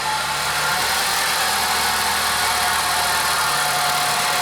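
A repaired Ford Focus engine idling steadily after a starter repair, a continuous close, loud low hum with a broad hiss and faint vibration running throughout with no voices.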